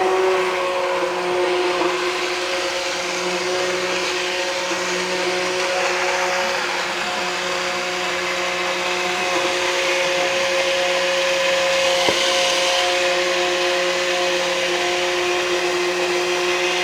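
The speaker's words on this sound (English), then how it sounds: "I'm going to blend this up and I'll be right back." An immersion blender whirs steadily as it purées hot ratatouille and curry squash soup, a close, continuous motor drone that holds for the whole stretch with no talking.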